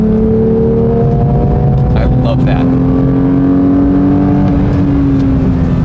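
A 2022 Porsche 911 GT3 Touring engine blipping and rising in pitch on auto rev-matched downshifts, a droning cabin tone with a person speaking briefly over it.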